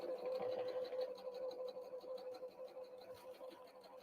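A sewing machine stitches a straight seam along a napkin, its fast steady rhythmic whir running continuously and close.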